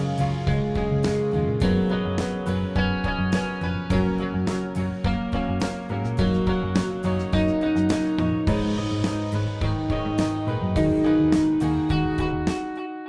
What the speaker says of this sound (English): And then I got like an arpeggiator part here,